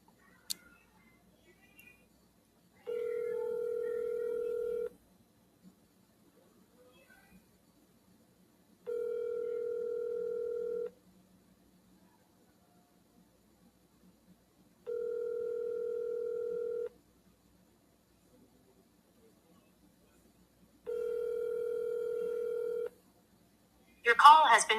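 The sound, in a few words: telephone call ringing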